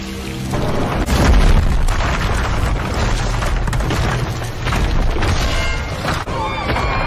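A deep explosion sound effect booms and rumbles loudly, with low bursts and crackling debris filling the stretch behind a heavy, sustained roar.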